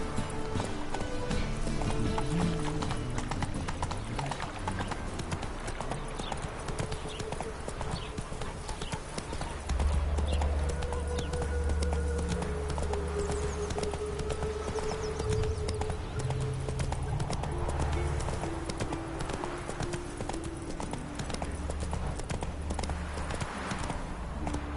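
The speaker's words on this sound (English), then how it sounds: "Whoa there, Roach" A horse's hooves clip-clop in a steady rhythm in a video game, with occasional whinnies and game music and effects underneath, and a voice speaks briefly over it.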